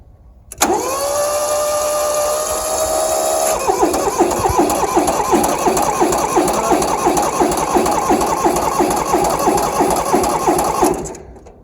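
A Kubota diesel tractor engine cranks and catches, idling steadily at first and then settling into a loud, rapid, uneven chugging that runs close up until it cuts off near the end.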